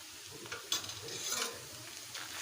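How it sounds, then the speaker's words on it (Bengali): Ginger garlic paste sizzles with browned onions in a pan: a soft, steady frying hiss and spatter with light stirring scrapes, fairly quiet and close, no voices. "আদা রসুন বাটাগুলোকে ভালোভাবে ভেজে নেব"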